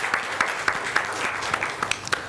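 A small audience at a quiz event applauds a winner, with scattered clapping and a few sharper individual claps standing out over a light crowd murmur.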